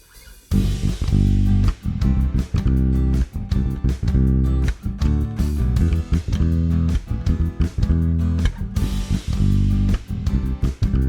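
A bassline with quicker 16th-note rhythms layered in pulses steadily and loudly, with dense punchy repeated notes and short gaps between phrases, and no voices.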